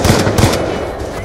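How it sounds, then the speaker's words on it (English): Rapid gunfire from Black Ops 2 in Search and Destroy league play, a loud close burst of shots at the start followed by a second burst. "I shot more bullets on him"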